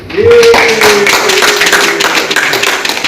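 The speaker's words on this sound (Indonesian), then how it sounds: "kasih tepuk tangan untuk kalian semua" Students in an Indonesian-language classroom clap together, a loud burst of dense hand claps with a couple of voices briefly mixed in, lasting a few seconds.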